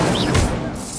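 An Incendio fire spell cast in Hogwarts Legacy, a single brief dense whooshing burst, loud and close with no talk.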